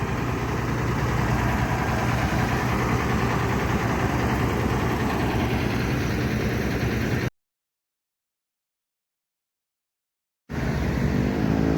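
The engine of an ALS 270 intercity bus idles with a steady, loud low rumble and vibration, cut by a few seconds of total silence before the same idle resumes.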